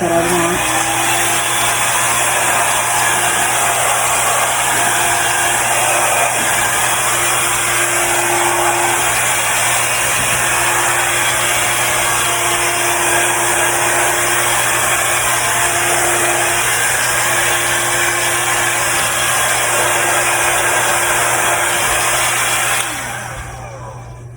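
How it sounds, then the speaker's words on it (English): Air is blown steadily onto paint poured into a mold, making a loud continuous blowing roar that lasts almost the whole time before tapering off at the end. "I'm going to blow it into the mold so that it makes that area that I want."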